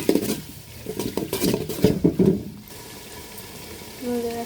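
Tomatoes cut into cubes frying in a pan with ginger-garlic paste for a chicken pulao, with sizzling, stirring and pots clanking for a few seconds before a quieter simmering tail.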